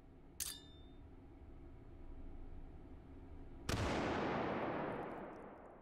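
A grenade goes off in the VR shooter Hot Dogs, Horseshoes & Hand Grenades: a sudden loud blast with a long rumbling decay, preceded by a short sharp shot or pop and a low background hum.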